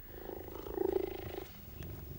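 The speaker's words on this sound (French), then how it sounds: "Farouk le guépard ronronne dès qu'il aperçoit Max" A cheetah named Farouk purrs at its trainer, a steady close rumbling throb with a swell in the middle before it fades.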